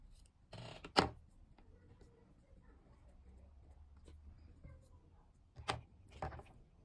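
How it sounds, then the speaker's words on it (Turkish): Scissors snipping off excess ribbon while making a bow, two or three crisp close cuts separated by quiet handling and faint rustling. "burayı fazlasında yine keselim."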